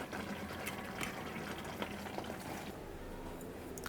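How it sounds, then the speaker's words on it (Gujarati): A Gujarati-style drumstick masala curry of saragva pods simmering in a pan, giving a steady low bubbling and sizzling with faint pops, alone and close. "ફક્ત 1 મિનિટ જ ખદખદવા દેવાનું છે"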